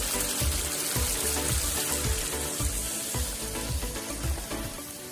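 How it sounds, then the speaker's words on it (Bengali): A little water goes into sizzling chicken curry, raising a dense hiss and bubbling over repeated soft thumps of stirring from a near pan. "আর আমি একটু একটু সামান্য একটু জল দিচ্ছি।"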